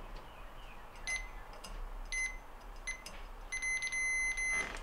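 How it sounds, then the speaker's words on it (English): A multimeter on continuity mode gives a couple of short, thin beeps and then a longer steady tone while probing a gas stove's burner igniter electrode, faint against a quiet room. "If we have a good electrode, we should hear a beep from our meter."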